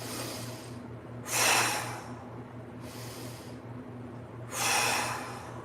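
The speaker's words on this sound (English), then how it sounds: "let's take a few big breaths. Try to expand the rib cage" Two slow, deep breaths taken during a mobility exercise, each a loud breathy inhale and exhale heard up close over a low steady hum, with quiet pauses between them.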